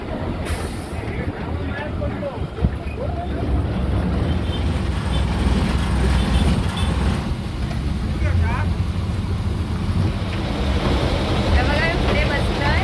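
Steady engine rumble and road noise from inside a Goval-bound local bus as it drives along a rural road toward Talebazar, continuous and fairly loud, with passengers talking over it.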